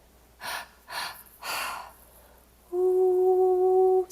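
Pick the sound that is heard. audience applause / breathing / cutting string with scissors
breathing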